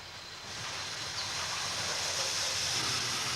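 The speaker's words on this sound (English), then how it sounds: "The workaday and dirty steam locomotive has become a glistening, gleaming curiosity" A steam locomotive on the Don River Tramway in Tasmania, 1979, gives off a steady, loud broadband hiss of escaping steam that swells slightly after the first half second and holds on without a break.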